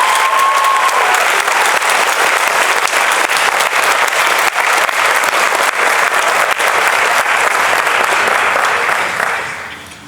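A large crowd at a baccalaureate ceremony applauds a graduating senior, loud sustained clapping filling the hall without a break before tapering off at the very end.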